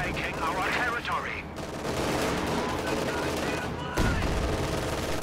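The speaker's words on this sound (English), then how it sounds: "MG-42 turret!" An MG-42 turret in a video game fires in a sustained, rapid, dense stream that runs the full length, loud and close, with a voice talking over the gunfire.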